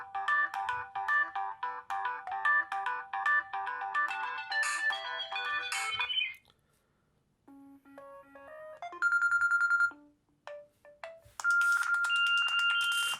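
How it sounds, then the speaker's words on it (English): A Samsung Galaxy S5 phone plays several short ringtone melodies in turn, bright electronic chimes and tones with brief pauses between them, loud and close with no one talking. "And then I want to go to ringtones."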